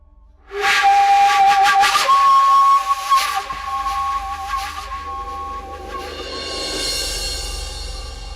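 A loud, sustained steam whistle from a pressure cooker, shrill and hissing, easing into a softer hiss as it fades.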